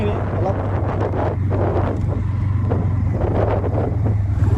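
A Bajaj Pulsar N160 motorcycle on a test drive at moderate speed, its low steady engine drone buried under heavy wind rush, with someone talking over it throughout.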